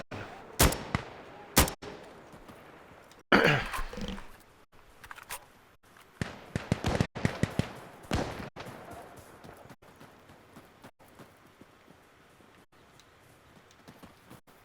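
Rifle gunfire in the Insurgency: Sandstorm video game, sharp separate shots, a few single cracks and then a quicker string, fading to fainter scattered reports toward the end.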